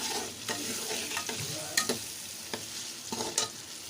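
Chicken seasoned with salt roasts in a hot pan, giving a steady soft sizzle broken by several sharp scraping stirs of a spoon against the pan, close and with no voices.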